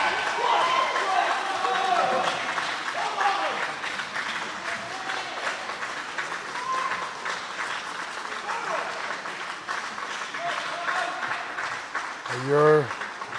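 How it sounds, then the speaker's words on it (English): A crowd of Great Britain supporters applauds at a boccia BC1/2 team match, steady clapping spread through the hall under a commentator's voice, with a short sharp exclamation near the end. "You can hear the crowd here from Great Britain."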